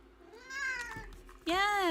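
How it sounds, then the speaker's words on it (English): A cat meows close by near a computer keyboard, with a drawn-out cry and a louder, sharper meow near the end, over faint background sound. "Cat on keyboard."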